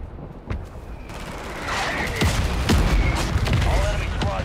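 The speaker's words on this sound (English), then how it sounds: "Mortar strike inbound now." A mortar strike hits in the Call of Duty video game, bringing deep booming explosions amid a dense crackle of gunfire. A radio-style voice speaks over the din.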